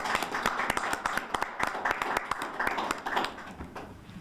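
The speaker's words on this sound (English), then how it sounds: "I'd like to give her a round of applause." A room applauds the City of Pittsburgh employee of the month: dense, crisp clapping from a gathered group, close and fairly loud, holding steady before thinning slightly toward the end.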